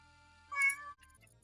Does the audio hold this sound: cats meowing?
yes